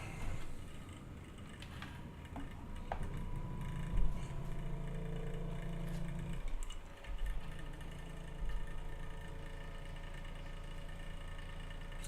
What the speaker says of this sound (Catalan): Sí que se sent, sí, el ventilador.